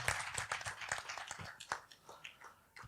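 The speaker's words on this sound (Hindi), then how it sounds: "नारायण के लिए जोरदार ताली बजाएं" An audience claps for Narayan at a Hindi talk gathering, a faint, rapid patter of many hands in scattered, uneven beats.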